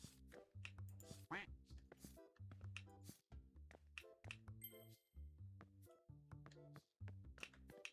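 A moon duck quacks in a video game, brief nasal calls set among repeated harmonic game tones and a light tinkling chime, the quacks fairly clear over the busy effects.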